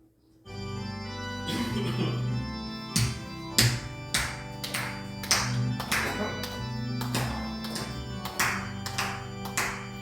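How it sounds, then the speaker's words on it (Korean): A church congregation claps along while singing a hymn during a Sunday worship service. Crisp, regular claps keep a steady beat over sustained keyboard chords and group singing, continuing throughout at moderate loudness. "박수 치면서 함께 찬양하겠습니다"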